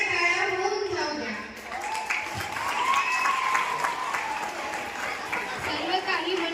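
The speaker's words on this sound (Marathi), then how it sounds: "आणि जोरदार टाळ्या होऊन जाऊ द्या." Loud applause from children at a cheerful Saturday celebration, a sustained roomful of clapping mixed with chatter, while an adult voice speaks over it near the start and end.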